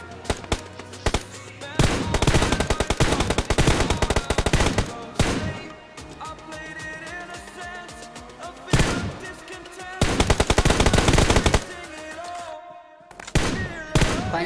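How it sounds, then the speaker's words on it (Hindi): In a BGMI match on the Livik map, loud automatic gunfire rattles out in several long, rapid bursts separated by short pauses, with quieter game sounds in between. "मुझे सामने से सुनाई देते हैं फायरिंग के साउंड"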